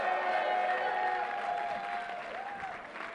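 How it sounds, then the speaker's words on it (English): Sustained audience applause at a political event honoring Governor Kathy Hochul, a dense steady wash of clapping that holds for several seconds and tapers slightly toward the end. "Give her a round of applause."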